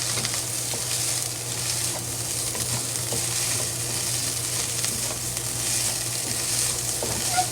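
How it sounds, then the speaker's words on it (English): Egg fried rice sizzles steadily in a pan with soy sauce, a continuous frying hiss with occasional stirring scrapes and a low background hum, no talking. "Gotta slowly fry."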